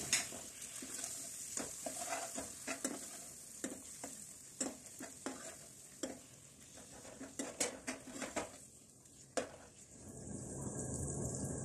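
Tomatoes and spices frying and sizzling in a pan for a chicken curry, with frequent stirring clicks and scrapes of a utensil against the pan, growing into a steady close sizzle at the end; no talking.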